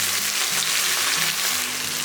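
Four large onions, sliced lengthwise, fry in hot oil for cooker mutton biryani, a loud, dense sizzle and crackle holding steady from start to finish with no voices.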